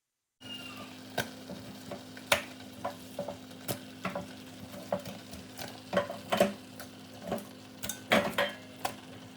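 Washed chicken for a green biryani fries in a hot pan while being stirred: a low sizzle runs beneath frequent clattering scrapes and taps of a spoon against the pan, with a faint steady hum in the background.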